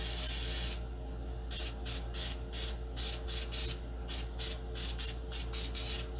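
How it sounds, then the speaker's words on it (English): Aerosol spray can hissing in a run of short bursts, roughly a dozen quick sprays close up over a steady mechanical hum. "Spray it a good bit, because it's your thing."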